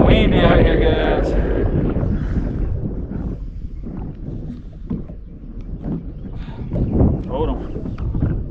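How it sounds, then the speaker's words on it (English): Wind buffets a small fishing boat out on open water, a steady broadband rush from start to finish, strongest at the outset, with someone talking over it. "Got it windy out here, guys."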